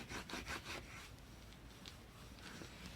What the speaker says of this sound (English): Okay, now I'm going to burnish this down really well.